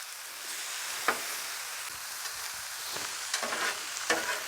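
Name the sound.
chipotle pork loin sizzling on a griddle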